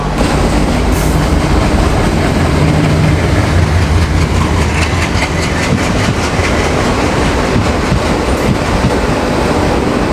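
A superfast express train of Indian Railways rolls past on the adjacent track, its wheels and carriages rumbling loudly and steadily for the whole stretch with rhythmic clatter over the rails, close by and with no voices.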